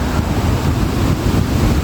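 A waterfall with yellowish water heard as a steady, broad rushing roar filling the whole clip, close and loud with no pauses.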